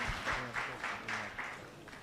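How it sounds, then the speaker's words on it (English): Conference audience at an interventional cardiology congress clapping together in a short burst of moderate applause that fades slightly toward the end. "So let's clap for ourselves"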